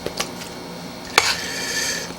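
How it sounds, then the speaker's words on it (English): A spoon scooping chili mac into a bowl in a home kitchen, with a few soft scrapes and one sharp clink of utensil against dish, short and close. "So what we're gonna do, scoop it out in the bowl here."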